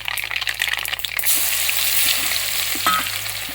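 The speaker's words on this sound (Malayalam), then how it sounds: "കടുക് പൊട്ടി വരുന്ന കഴിഞ്ഞാൽ നമുക്ക് വെളുത്തുള്ളി ചതച്ച് വെളുത്തുള്ളി ഇട്ട് കൊടുക്കാം" Crushed garlic sizzles loudly in hot oil with mustard seeds, crackling sharply at first and then settling into a steady fry close by.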